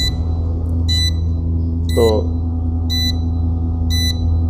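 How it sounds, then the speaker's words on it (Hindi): A BM730 voltage, ampere and watt meter gives short, sharp electronic beeps at an even pace of about one per second, close and clear over a steady low hum, with one brief spoken word in the middle. "चलो मैं पहले इसकी बीप को बंद कर देता हूँ एक बार"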